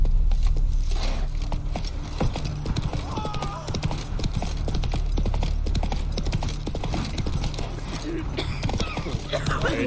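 A horse's hooves clip-clop at a steady pace in The Witcher 3: Wild Hunt, close and rhythmic, with jangling tack and game ambience underneath.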